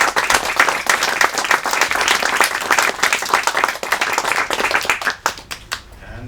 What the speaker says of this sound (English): I think now you can give in to your desire to clap for these people.